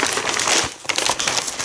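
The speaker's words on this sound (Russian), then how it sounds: "Смотри какой, бумажный, экологичный пакетик" Dense, brittle crinkling of an eco-friendly paper packet being handled close up during an unboxing, continuous with a brief pause midway.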